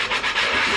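A Scrub Daddy sponge scrubbing a cast iron pan, a loud, close, continuous rasping rub that swells and eases in quick strokes.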